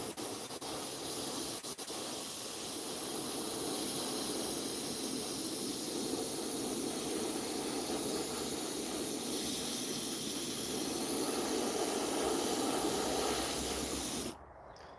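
An airbrush sprays paint onto fishing lures in a steady, unbroken hiss that runs for about fourteen seconds before cutting off abruptly, with no voices over it.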